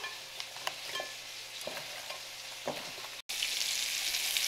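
Steady sizzling and crackling of a beef roast searing in a hot pan with onions, carrots and celery, a few soft clanks, a brief gap, then a louder hiss.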